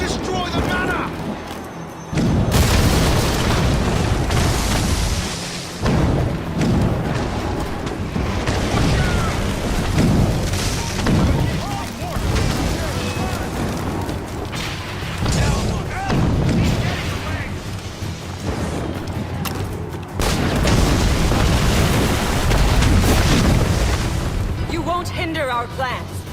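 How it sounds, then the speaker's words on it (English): Mortar explosions in Assassin's Creed Rogue, at a manor under bombardment: repeated loud booms and bursts come in waves, with a heavy low rumble throughout and voices shouting over the blasts. "Chevalier is using mortars to stop Shay."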